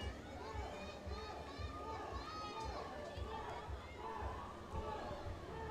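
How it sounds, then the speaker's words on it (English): A crowd at an age group swimming championship cheers and chatters steadily in a reverberant indoor pool hall, a continuous mid-distance wash of voices and shouts. "we can hear the crowd cheering for And these young swimmers"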